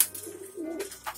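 Racing pigeons coo in a loft, a soft low throaty burble rising and falling over about a second, fairly quiet with a faint chirp near the end.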